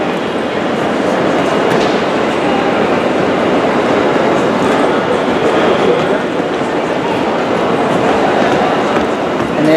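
A GWR Class 43 HST diesel train at London Paddington station gives a loud, steady rumble with rolling rail noise and faint clatter, close by and continuous for the whole span.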